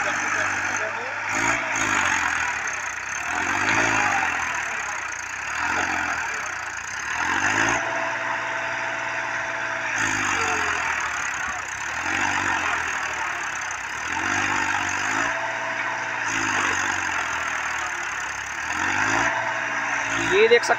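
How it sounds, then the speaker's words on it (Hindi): A 35 HP Massey Ferguson 7235 DI diesel tractor works a cultivator in a field, its engine droning under load with repeated rising and falling pitch swells, heard up close while someone speaks throughout. "ये देख सकते हो कल्टीवेटर कितना लगा के चला रहा है ट्रैक्टर।"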